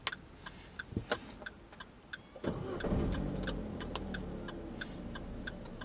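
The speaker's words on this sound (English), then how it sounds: "Deep breath and start the engine." A car sits in neutral with the handbrake on during a driving lesson. A few faint ticking clicks are followed by the engine cranking and catching, then it settles into a low, steady idle.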